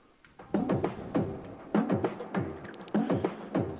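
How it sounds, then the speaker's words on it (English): A low drum loop drives the second break of a song, with steady rhythmic hits and deep thumping low end repeating in an even groove, with no voices. "But then now I have this low drum loop"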